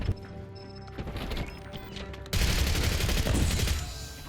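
Suppressed GPR 91 rifle fire in Black Ops 6, a dense rapid burst of muffled shots that swells loud midway after quieter game noise, then tapers off near the end.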